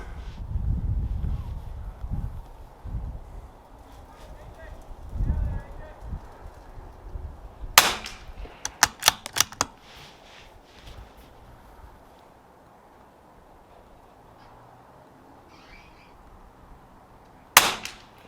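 Rifle shots at the Lapua testing range crack out as a sharp report, then a quick cluster of several shots, with one more loud shot near the end, all with voices talking at the start.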